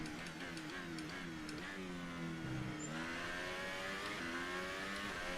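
Renault Formula 1 car engine in F1 2018 at the Bahrain Grand Prix, a high continuous whine climbing and dropping through gear shifts, steady and close throughout.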